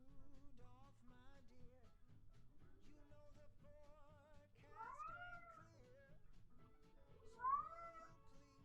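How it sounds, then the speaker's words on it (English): A cat meows repeatedly in rising, wavering cries, close and fairly loud, over a steady low background hum, with two strong yowls toward the end. "Oh my god, this freaking cat."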